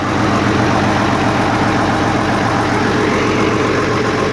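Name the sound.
FNM 180 truck engine running after three years stopped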